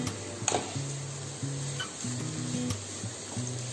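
Momo filling roasting in a pan, seasoned with pepper, gives a steady close sizzle with light stirring scrapes and a few small clicks of the utensil throughout.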